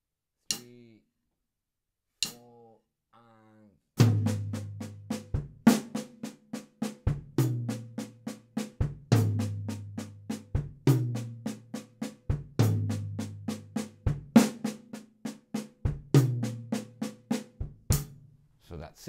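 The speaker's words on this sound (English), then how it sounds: "We're gonna play a different sticking or combination to play sextuplets." A drum kit plays a sextuplet sticking of right, left, left and kick at a slow 45 BPM, with evenly spaced stick hits and deep bass-drum thumps repeating in a steady cycle after a few sparse opening strokes, close and without talk.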